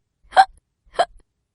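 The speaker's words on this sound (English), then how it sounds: "Pete has the hiccups!" Two short hiccup sounds from a cartoon kitty, evenly spaced about half a second apart, clear and close with no talking.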